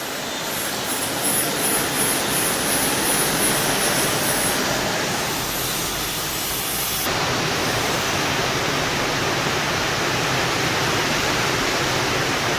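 Heavy rain pours down in a dense, unbroken hiss that stays loud and close throughout, with no voices.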